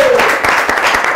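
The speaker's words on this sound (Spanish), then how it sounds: "Un aplauso para el papá" A studio audience on a Spanish-language TV talk show claps briefly, a loud rush of applause lasting about a second, with some voices mixed in.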